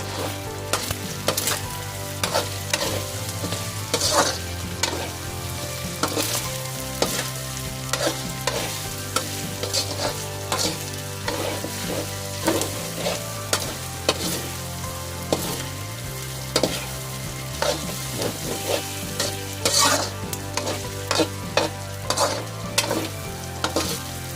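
Spaghetti sauce with hotdog being stirred in a hot pan, a steady close sizzle punctuated by repeated scraping clatters of the utensil, with a low hum running underneath and no talking.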